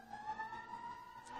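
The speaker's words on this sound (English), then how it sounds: "there's all these sirens" Emergency vehicle sirens wail outside, faint and distant, holding a steady wavering tone with no talk over them.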